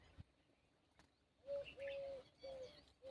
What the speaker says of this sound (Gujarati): ચકલા અવાજ કરી રહ્યા.